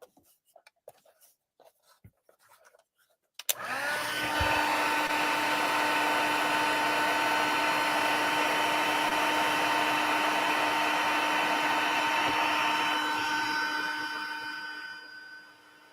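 Heat embossing tool warming embossing powder on a card: after a few faint clicks and handling noises it switches on and blows a loud, steady whirring hum for about twelve seconds, then winds down.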